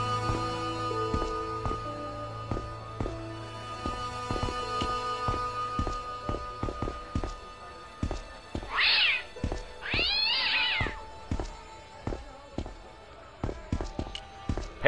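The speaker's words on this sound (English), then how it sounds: "The cat was an ugly brute who looked like he owned the joint." A cat in the point-and-click adventure game Broken Sword: Shadow of the Templars gives two drawn-out meows mid-clip, clear and close over a steady backdrop of rhythmic thumps and short game sound effects.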